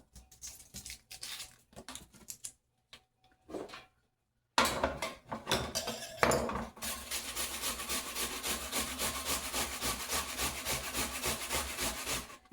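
Onion being shredded on a grater for Asian-inspired cabbage rolls: a few scattered scrapes at first, then a steady, close run of rapid rasping strokes that continues to the end.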